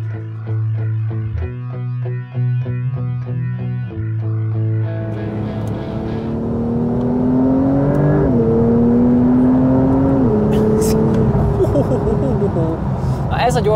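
An electric Porsche accelerates hard, its rising electric whine sweeping upward over several seconds, loud and close, while road and wind noise build beneath it; a low steady hum precedes the launch.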